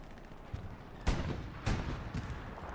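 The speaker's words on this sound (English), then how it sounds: "Tigers firing as many rounds as they can on point." Tiger tanks fire rounds in the World War II game Hell Let Loose, giving two heavy booming blasts and a softer third amid rumbling background battle, with no voices.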